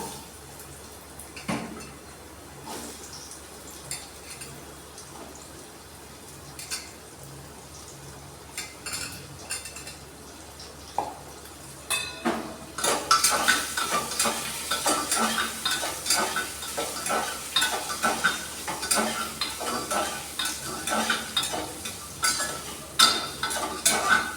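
Potatoes drop into a hot pan with ginger and start frying; an initially quiet sizzle with utensil clinks swells into loud, crackling frying and stirring partway through, with no talk.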